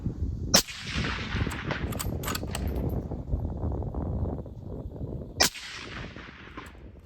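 Loud rifle shots at an outdoor range in Pennsylvania, fired from positional stances: two sharp reports several seconds apart, with steady rumbling background noise between them.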